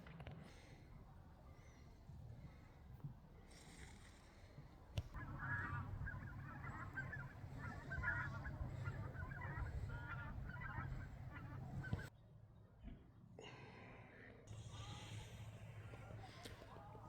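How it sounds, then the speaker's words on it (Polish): Distant geese flying overhead honk repeatedly in a loose, overlapping chorus, faint against outdoor winter background noise by a river and occasional low rumble. "Słychać tam gdzieś w tle gęsi lecące"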